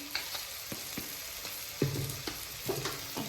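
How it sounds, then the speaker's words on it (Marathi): A ground masala paste with biryani masala and salt is sautéed for a Maharashtrian pavta rice, producing a continuous close sizzle punctuated by several sharp spoon-on-pan scrapes and clicks, no talking. "परतून घेऊया थोडंसं बिर्याणी मसाला आहे तो थोडासा टाकून घेऊया मीठ चवीप्रमाणे"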